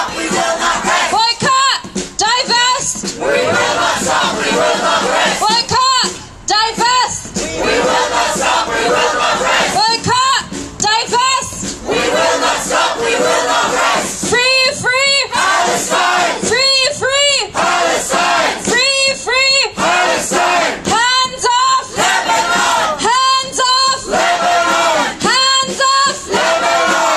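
A large crowd at a protest rally for Lebanon and Palestine roars and chants in loud, rhythmic bursts, repeated yelling phrases rising and falling throughout.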